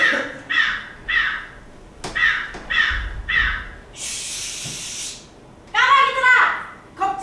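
During a stage play, crows caw in quick bursts of two or three calls, with a short hissing spray between the groups and a louder, harsher flurry of caws at the end.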